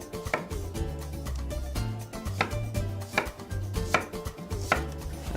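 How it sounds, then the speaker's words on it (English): A knife slices through a red onion on a cutting board in a steady run of crisp chops, some separated by short pauses, close and clear with no talking. "I'm going to slice a red onion"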